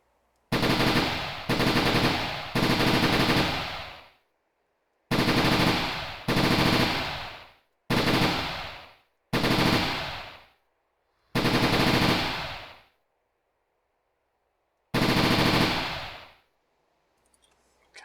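PPSh submachine gun with a 71-round drum firing in ArmA 3's IFA3 WWII mod: eight loud, separate full-auto bursts, each about a second long, broken by short silent gaps.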